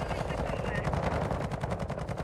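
Sustained automatic turret fire in the Call of Duty Modern Warfare II DMZ game, a dense, continuous rattle of rapid shots with a steady loud level, voices faintly underneath.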